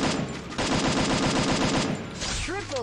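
Rapid automatic gunfire in the Free Fire battle-royale game, a dense sustained burst of shots lasting most of the moment, loud and close, ending with a brief electronic whooshing effect.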